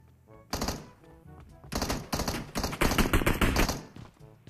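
M16 rifle fire in a video game comes in rapid bursts of sharp shots, loud and close, with several volleys separated by short pauses and no talk.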